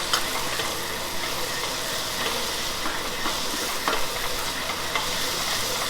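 Ground hamburger meat seasoned with salt, pepper, chili sauce and Worcestershire sauce cooking in a pan, a steady close sizzle with repeated scraping stirs throughout, no voices.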